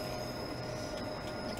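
A Class 360 electric train in Train Simulator 2015 on the Great Eastern line between London and Ipswich, running with a steady droning rumble and a high electric whine, no talk over it.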